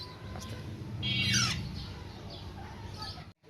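Parrot chicks squawk nearby in short, raspy calls, one louder cry standing out early, over a steady low background rumble.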